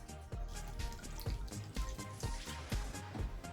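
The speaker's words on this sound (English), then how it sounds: "Pour some red wine on top of this." Red wine poured from a bottle over bay leaves in a cooking pot for beef bourguignon: a brief gurgling, splashing pour with small glugs and drips, close and fairly quiet.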